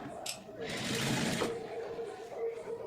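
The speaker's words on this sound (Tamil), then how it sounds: "இப்போது சைடு ஜாயிண்ட் தையல் வந்து நம்ம மேல்பக்கம் இருந்து ஸ்டிச் பண்ணிக்கலாம்" A sewing machine stitches the side joint of a blouse in a short, steady whirring run, set against a quiet room with a voice talking over it.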